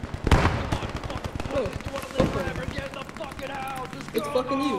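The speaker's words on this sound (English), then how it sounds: "Get that grease gun spinning!" An M3 grease gun submachine gun fires in Post Scriptum, a 1944 Western Front shooter: sharp reports cut through close, excited voices shouting over the gunfire.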